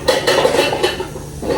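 Dishes, pots and bowls clatter and scrape as someone rummages through kitchenware for a favourite bowl, with quick clinks and knocks of crockery and cutlery close by, no talking.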